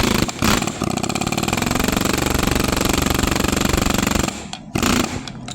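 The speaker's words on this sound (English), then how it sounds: "I'll push that back down in with the air hammer" An air hammer drives a greased part into a car's upper control arm in a loud, rapid rattling burst lasting about four seconds, followed by a short second burst after a pause.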